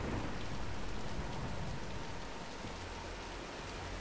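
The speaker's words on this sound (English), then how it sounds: "let's wait out the storm." Steady heavy rain pours across a Tomb Raider game scene, a dense continuous hiss with a faint low rumble of thunder underneath, constant and close with no voices.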